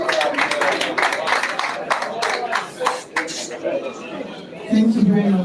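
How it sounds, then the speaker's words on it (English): An audience at a June 12 Democracy Day celebration in Lagos claps scattered and moderately loud for several seconds amid crowd chatter, then a voice begins speaking. "Please let's clap for her together."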